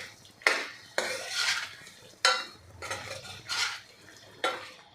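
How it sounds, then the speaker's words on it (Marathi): A spoon stirs boiled, peeled potato pieces into a spinach curry in a pot, making about six distinct scraping and clinking strokes in an uneven rhythm, close and moderately quiet, with no voices. "ह्या यामध्ये घालून मिक्स करून घ्यायच्या आहेत"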